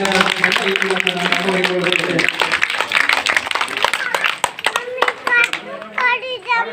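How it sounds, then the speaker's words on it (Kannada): Scattered applause from a small group of schoolchildren at a school event, uneven claps fading into separate hand claps, with children's voices chattering throughout. "ತಾವೆಲ್ಲರೂ ಸಹಿತ ಜೋರಾಡವನ್ನು ಚಪ್ಪಾಳೆ"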